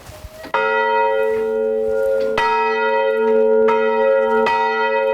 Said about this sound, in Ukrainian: про ракетну небезпеку жителів Голені сповіщав цей дзвін